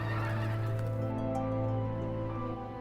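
Geese calling at Bull Island in Dublin, a dense chorus of honking and gobbling with steady layered tones, moderately loud and continuous with no talk.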